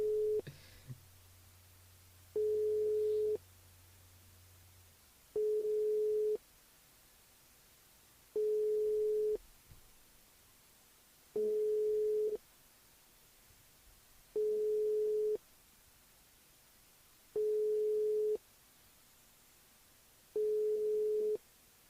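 Telephone busy signal on an unanswered call: a single steady tone beeps on and off in an even rhythm, eight pulses with a low hum under the first few seconds, and no voices.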